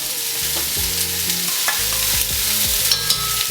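Frozen peas sizzling in a hot pan while being stirred for mattar paneer, a loud continuous crackling fry with scraping utensil clicks against the pan, close up and without voices.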